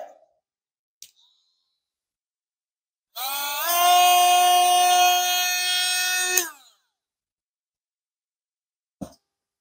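A Ryobi FVM51K 4V cordless rotary tool running alone for about three seconds, a high whine that ramps up in speed then holds steady before cutting off, with small clicks before and after.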